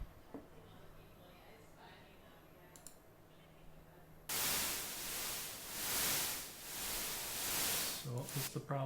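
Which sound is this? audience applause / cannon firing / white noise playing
white noise playing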